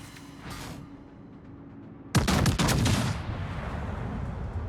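Heavy warship guns boom in a naval battle video game, a quiet stretch with a brief burst giving way to a sudden loud salvo of several rapid blasts, followed by a sustained rumbling roar.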